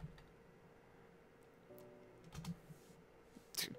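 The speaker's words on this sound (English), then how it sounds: "I'm terrible at typing." Fingers tap away at a computer keyboard during a Minecraft session, a quiet, irregular patter of key clicks that grows busier and louder in short bursts near the end, with no speech.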